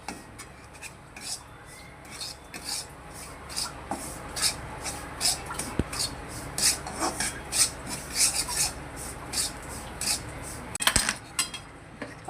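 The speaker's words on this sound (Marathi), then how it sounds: "रवा सर्वप्रथम चांगला भाजून घेणार आहे।" Semolina dry-roasting in a pan is stirred in a steady run of rhythmic rasping scrapes, close and fairly loud, with one sharp knock near the end.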